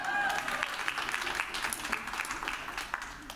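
Audience clapping at a live performance, a moderate continuous patter of hands through the whole stretch, somewhat distant in a room, with no clear voices.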